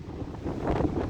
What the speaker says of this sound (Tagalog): Sobra yung hangin ngayon. Super yung hangin.